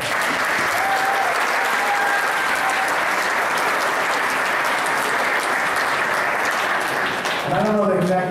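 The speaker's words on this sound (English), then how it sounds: "please stand and have a round of applause as well" Sustained, steady applause fills a room at a company holiday party, a full audience clapping for support staff, with a voice speaking briefly near the end.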